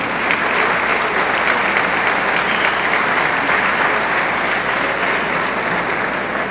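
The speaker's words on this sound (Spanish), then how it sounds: "Que venga el aplauso para ellos." A crowd at a municipal ceremony applauds the town's firefighters, sustained loud clapping from many hands that holds steady for several seconds, close and dense, with no talk on top.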